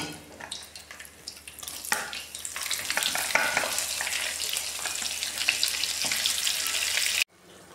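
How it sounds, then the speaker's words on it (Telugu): Brinjal pieces fry steadily in hot oil, a loud dense sizzle with crackling bursts running continuously for about seven seconds before cutting off abruptly. "ఈ వంకాయలని తీసి ఈ నూనెలు వేసేయాలి"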